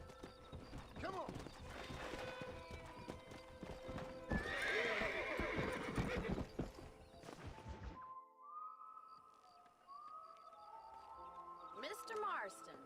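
A horse in the Red Dead Redemption video game gallops with loud rapid clip-clopping hooves, gives a sharp neigh, and is joined by a character's shout and in-game music over the steady hoofbeats.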